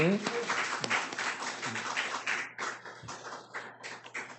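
A church congregation at a Friday prayer meeting claps together, a steady patter of hand claps lasting several seconds, with people talking over it.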